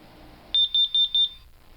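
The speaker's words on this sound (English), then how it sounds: "there's your typical carbon monoxide 4 beeps" A carbon monoxide alarm gives four loud, evenly spaced high-pitched beeps in a quick burst, close by in a quiet room.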